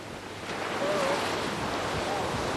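Ocean waves crash under strong, steady wind at the Sotavento speedsurfing venue on Fuerteventura, a continuous roaring wash of surf with heavy wind buffeting the microphone throughout.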